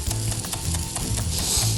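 Cajun seasonings and chives sizzle steadily in a hot cast iron pan, a close, loud continuous crackle with occasional stirring scrapes.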